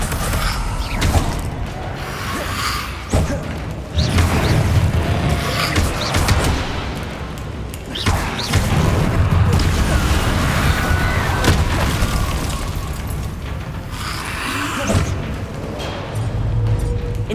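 Spell blasts from Expelliarmus and other combat spells in Hogwarts Legacy, repeated booming bursts and mechanical clanks in a dense, loud battle mix, with a player calling out spell names.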